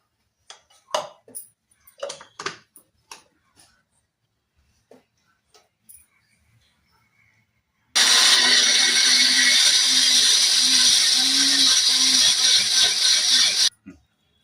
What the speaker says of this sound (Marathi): याला मिक्सरला बारीक करून घ्यायचं, पेस्ट करून घ्यायची याची